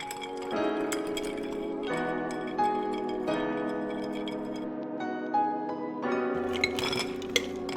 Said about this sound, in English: and stir away. Stir for like 30 seconds.